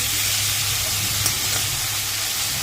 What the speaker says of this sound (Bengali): দেখো নুন আর হলুদ দিয়েছি, দিয়ে এবার এটা একটুখানি ভাজা ভাজা হয়ে যাবে।